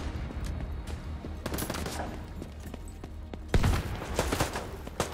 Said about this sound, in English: Now where the hell am I being shot at?